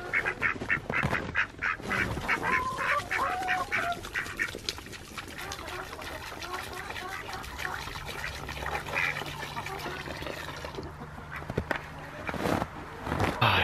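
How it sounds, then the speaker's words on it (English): Ducks quacking and splashing in water on a freezing winter farm, a busy chorus of repeated nasal quacks, loud and close at first and then thinning out, with occasional other calls and knocks. "Ducks sure are crazy."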